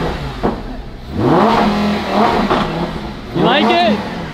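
A twin-turbo Lamborghini Huracan revs hard at close range, with several sharp rising blips of engine noise, each swelling and falling away, and people talking and exclaiming around the car.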